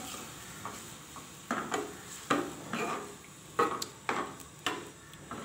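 A spoon stirs liver curry (kaleji salan with tikka masala) in a pot over high heat, with soft, irregular scrapes and clinks coming every half second or so at a low, steady level.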